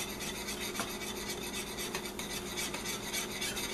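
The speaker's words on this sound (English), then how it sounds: "You want to slowly whisk in your grits" Grits being whisked into boiling water in a pot, giving a continuous rapid rasping whisk against the metal with faint bubbling, close and steady and without talk.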